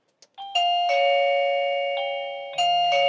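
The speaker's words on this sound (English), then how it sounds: "when a visitor actually rings the bell? Well, first of all, obviously we've got the chime here." An XTU J10 Plus doorbell chime rings out loud and close, a bright multi-tone melody that sustains, fades slightly, then strikes again near the end, with no talking.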